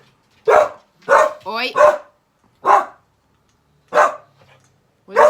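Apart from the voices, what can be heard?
dog barking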